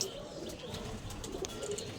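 A red-checkered pigeon coos softly on a rooftop loft, a faint, low murmur amid background noise and light chirps.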